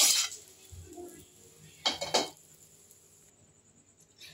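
Hot tempering poured from a small pan into urad dal chutney, heard as a few metallic clinks and scrapes of the pan and spoon, with one brief clattering burst in the middle against a quiet kitchen background.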